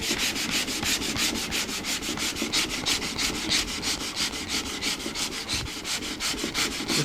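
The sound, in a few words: sanding wood of ES 335 guitar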